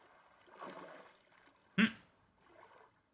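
Water lapping against an overturned boat in a video game, soft faint swishes with one sharper splash partway through, quiet and sparse.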